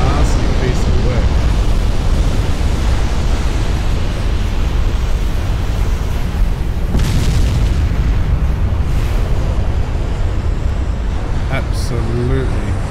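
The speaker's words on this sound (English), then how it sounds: "It's still exploding." A warship blows up in the naval game Ultimate Admiral: Dreadnoughts, a sustained roaring explosion with continuous rumbling and crackling bursts that swell around the midpoint, loud and dense throughout.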